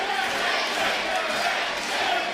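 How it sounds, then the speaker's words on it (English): Crowd noise at an independent wrestling event: a dense, roaring mass of voices holding steady and loud throughout, with chanting blurred into the general din. "the crowd chanting for Friendship"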